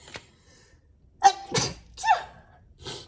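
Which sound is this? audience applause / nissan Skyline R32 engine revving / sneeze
sneeze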